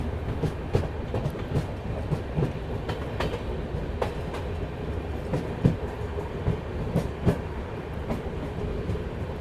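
The Bhopal Shatabdi Express rolls across changing tracks toward a platform, a steady rumble with repeated clickety-clack wheel beats heard from inside the train.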